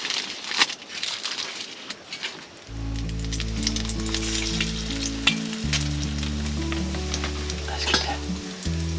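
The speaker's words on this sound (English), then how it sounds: "Let's see if I'm man enough to cook another biscuit." A biscuit frying in a pan at a snowy winter camp, with a steady close sizzle and crackle of hot fat running throughout, a low droning tone underneath and no talking.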